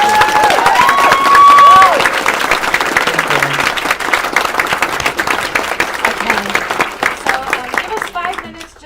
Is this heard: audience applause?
yes